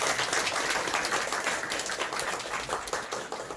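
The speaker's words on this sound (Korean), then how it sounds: "우리 환영의 박수 하도록 하겠습니다." A congregation gives welcoming applause during a Sunday daytime worship service at a Daegu church, a steady patter of many hands clapping that stays even for a few seconds before thinning slightly.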